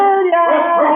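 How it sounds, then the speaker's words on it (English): A dog howls in a long, wavering tone with a yelping edge, loud and sustained with no talk over it, heard during a tense police chase. "What's with that dog? It sounds like it's coming up here."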